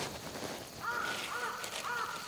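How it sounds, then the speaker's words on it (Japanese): A crow caws several times at dusk over a countryside farm field, the harsh calls clear and moderately near against a quiet outdoor background. "ほらカラスが早く帰らなきゃ暗くなるよって言ってる。"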